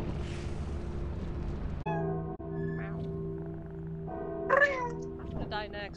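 A cat meows several times in the modded video game Lethal Company. The meows are short and tonal and sit among game sounds and player chatter.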